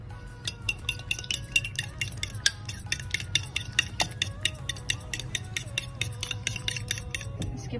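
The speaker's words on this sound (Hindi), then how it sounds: "हम सबसे पहले अंडों में मसाला डाल लेते हैं और अंडों को फेंट लेते हैं" Eggs with spices being whisked in a bowl, a rapid, steady run of close metallic clinks against the side at an even rhythm for several seconds.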